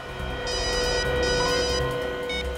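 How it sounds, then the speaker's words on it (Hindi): A telephone rings in bursts of an electronic trill, repeating at a steady pace over a low background hum, with no speech. "उस खबरी रघु का फोन था"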